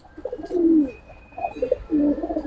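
Large Giribaz pigeons coo in low, throaty, rolling calls, repeated in close, steady bursts with no voices over them.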